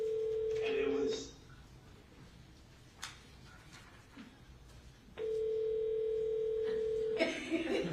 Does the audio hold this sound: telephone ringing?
yes